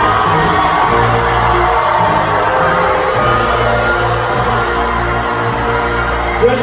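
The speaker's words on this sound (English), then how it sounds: "My lord, hear your people cheer." A large crowd at a medieval tournament show cheers and whoops continuously in a big arena, a dense roar of many voices with scattered shouts.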